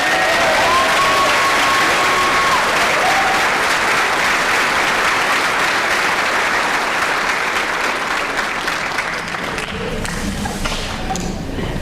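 A graduation audience of seniors, families and guests at a high school ceremony breaks into loud, sustained applause, a dense roar of clapping that holds steady then tapers slightly near the end.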